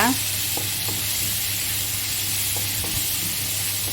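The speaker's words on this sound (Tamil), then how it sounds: "ஒரு ரெண்டு பெரிய வெங்காயம் வந்து சின்ன சின்னதாக நான் கட் பண்ணி வச்சுருக்கேன் அதையும் மிக்ஸ் பண்ணிக்கோங்க அதையும் நல்லா வதக்கிக்கோங்க" Chopped big onions sautéing in a pan for jackfruit seed curry, a loud continuous sizzle and hiss with a few scattered stirring clicks, close up and without speech.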